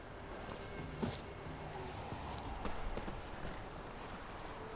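Roach the horse from The Witcher 3 walking, faint clip-clop hoof steps over a steady ambient game bed, a few heavier thuds standing out, no talk.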